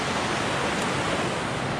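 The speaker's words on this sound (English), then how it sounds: "The water is really flowing though." Fast-flowing creek water at a trail crossing, a dense steady rushing wash, close and unbroken, with no voices.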